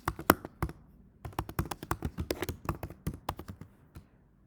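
Someone types a formula into an Excel spreadsheet on a computer keyboard, a steady run of quick close key taps with a brief pause near the start.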